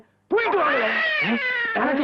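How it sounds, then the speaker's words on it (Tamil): A baby cries in one long, wavering wail that starts abruptly after a brief pause, loud and close, rising and falling in pitch with a short break before continuing. "இன்னொரு குழந்தை அழுவு சத்தம் கேக்குது"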